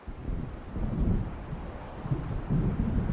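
In the video game Alan Wake Remastered, a thunderstorm rolls in: deep, rumbling thunder swells and surges in waves over a constant bed of wind and rain, with no talking.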